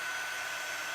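A hair dryer blows steadily for a brief moment, a close, continuous whine and rush of air, used to dry chalk paste marks; no one talks.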